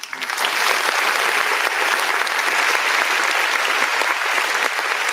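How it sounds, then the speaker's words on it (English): Applause from an open mic night audience as a pastor is introduced, a loud, full burst of many hands clapping that swells in quickly and holds steady for several seconds. "let us bring on Pastor John Girton with a round of applause."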